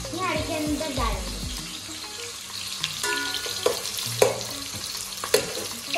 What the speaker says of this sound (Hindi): और इसको इस तरह ही मिक्स करते जा रहे हैं।